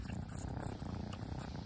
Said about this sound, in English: That's the purring one.